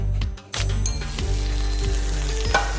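Butter, cumin seeds and spinach sizzling loudly in a hot pan, a dense close crackle with a few scraping stirs and clicks over it.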